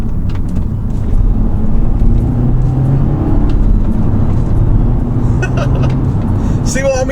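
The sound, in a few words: Audi S3 engine revving after downshifting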